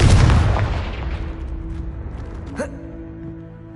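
A Confringo spell explosion in a Harry Potter video game, a loud blast at the start that decays into a rumbling tail, with a small sharp hit partway through.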